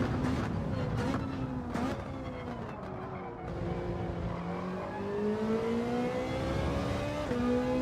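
A race car in Gran Turismo powers out of a corner during an online daily race. Its engine note climbs through a few quick gear changes, loud and close throughout.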